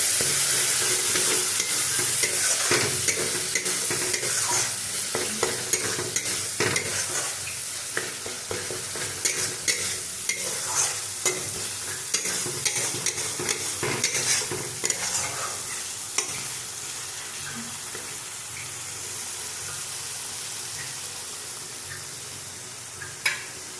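Masala paste fries in hot oil for a prawn curry, a continuous close sizzle broken by repeated scraping stirs of a spoon against the pan, with no voices.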